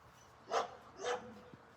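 Dogs roam outdoors on grass; two short, faint barks come from a distance a half-second apart, with soft outdoor background between them.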